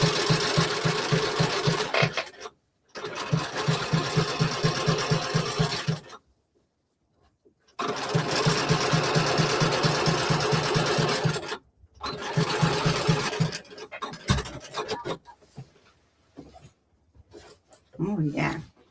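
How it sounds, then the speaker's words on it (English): A sewing machine stitches a fleece vest in loud, rapid mechanical bursts separated by short pauses. A voice talks over some of the stitching, and quieter handling noises follow near the end. "Make sure I'm not going to sew over my pockets."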